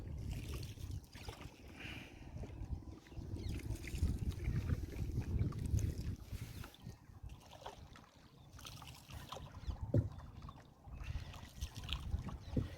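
A rowboat moves through floodwater in Darrang, Assam, with low, steady water sloshing and wind rumble throughout and occasional brief knocks, fairly close.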